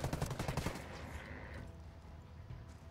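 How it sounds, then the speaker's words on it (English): Rapid automatic gunfire in Tom Clancy's Ghost Recon Wildlands hits the player, a dense rattling burst at the start that fades into lower, rumbling game noise. "Oh, now I'm just stuck in place being shot."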